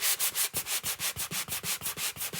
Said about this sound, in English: And then you want to use some sandpaper.